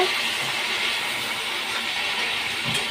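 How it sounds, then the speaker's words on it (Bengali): Pointed gourd and potato frying in hot oil, a steady, fairly loud broadband sizzle that holds evenly throughout with no talking. "কাঁকরোল আর আলুটা আমি একটু ভেজে নিচ্ছি, ভালো করে ভেজে নেব"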